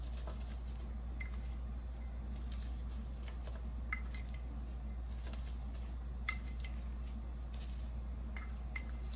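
A utensil clinks and scrapes against a bowl while brown sugar and cinnamon are mixed, producing irregular light taps over a steady low hum, without speech.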